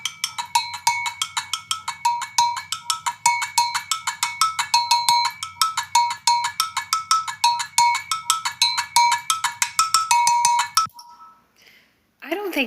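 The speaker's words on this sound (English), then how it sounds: "we're going to clack them together in between those notes" An agogo bell rings in a fast, steady rhythm of bright metallic strikes, with the two bells clacked together between notes, close and loud, then stopping abruptly near the end.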